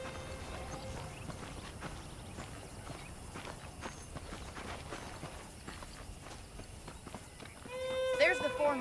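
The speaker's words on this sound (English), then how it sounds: "The horses are saddled up over here." Horse hooves clip-clop in a video game, a faint steady walking rhythm of muffled hoofbeats in the background, with a brief whinny-like sound near the end.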